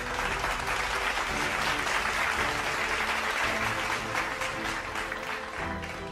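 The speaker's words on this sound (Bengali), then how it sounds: "তার জন্যও একটি জোরে করতালি।" An audience at a Tiger Run 2025 race prize ceremony claps loudly for a runner-up, a sustained burst of dense applause that tapers slightly toward the end.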